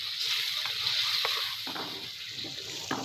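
Desi chicken roasts in a pot, giving a steady close sizzling hiss broken by occasional light scraping clicks from stirring.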